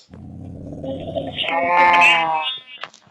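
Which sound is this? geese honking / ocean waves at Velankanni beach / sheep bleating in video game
sheep bleating in video game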